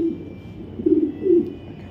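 A male white racer pigeon gives two deep, throaty coos in quick succession, close and clear against a quiet background hum.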